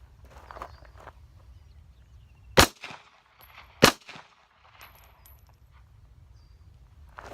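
Walther CCP pistol fired twice outdoors, two sharp loud cracks about a second apart with a brief echo after each, set against quiet background ambience and faint shuffling.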